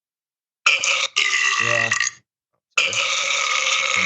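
Loud, close burps, one long drawn-out belch with a rumbling tail followed by another sustained one after a short silence, and a brief spoken word in between.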